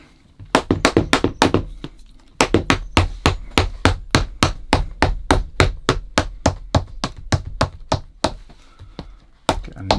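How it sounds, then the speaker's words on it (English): A hammer strikes a shoe outsole in a shoemaking workshop, a rapid run of close, sharp blows in an even rhythm that keeps going with barely a pause. "Put a few hammer blows on it now."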